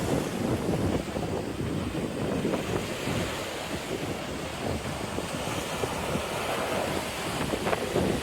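Surf pounds the rocky seashore at Corito Bay Beach while a brisk wind gusts, giving a constant, loud wash of breaking water and wind rumble on the microphone throughout, with no talking.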